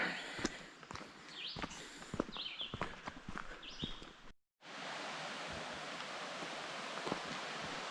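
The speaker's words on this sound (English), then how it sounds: "Another creek crossing." Footsteps crunch along a hiking trail at a creek crossing, then after a brief pause a steady, loud rush of flowing creek water fills the rest of the clip.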